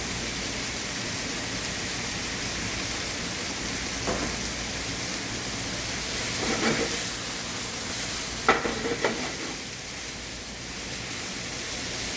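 Red pepper, yellow squash, cremini mushrooms and broccoli hit a hot pan for penne chicken primavera, giving a steady hiss with a few louder stirring scrapes and crackles partway through.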